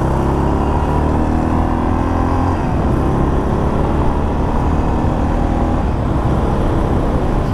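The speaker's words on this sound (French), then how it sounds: "cette moto fait énormément de bruit." A Yamaha XT 600 big single-cylinder motorcycle engine runs loud and steady while riding in hot weather, a constant low throbbing drone with road noise close by.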